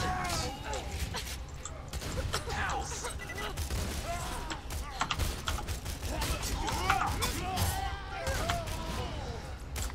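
Gunfire in the video game Borderlands 2 crackles in dense, overlapping bursts with mechanical clatter throughout, loud and continuous, while players talk over it.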